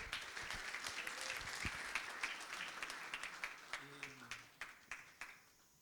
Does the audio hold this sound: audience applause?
yes